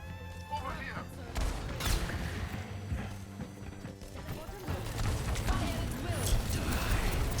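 Rapid bursts of gunfire from the Reaper's Death Blossom ability in a video game, a dense rattling fusillade with crashing impacts that swells and continues throughout, loud and close.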